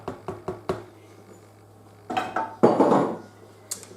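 Dumplings dropped into a pot of boiling beef stew, starting with a quick run of four clinks of a utensil on the pot rim, then a pause before louder scraping and splashy thuds, ending in one last tap.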